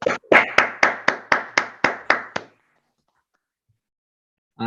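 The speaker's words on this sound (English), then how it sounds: "So first, a round of applause." About ten sharp, evenly spaced hand claps from a single person close by after an academic seminar talk, followed by silence.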